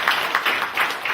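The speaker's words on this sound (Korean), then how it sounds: "회장님께 여러분 뜨거운 박수." Audience applause at a Korean cultural lecture gathering, a brief burst of many hands clapping in dense, pulsing waves, fairly loud and close throughout.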